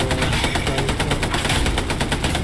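A machine gun in the Hell Let Loose war game fires in a rapid, unbroken rhythmic stream, loud and close throughout.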